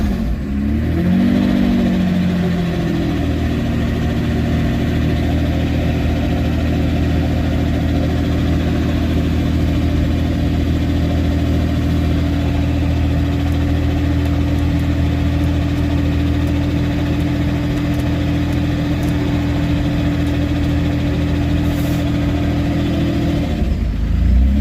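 A car engine that has just been brought back to life runs continuously with the throttle held open, giving a steady loud drone with a brief rev at the start and no talk.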